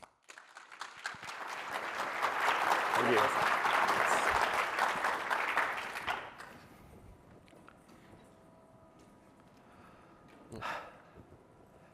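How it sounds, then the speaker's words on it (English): A conference audience claps for two speakers, a swell of applause that builds, holds for several seconds and then cuts off, followed by quiet room tone and a short spoken thanks. "please, big round of applause for Colin and Thomas"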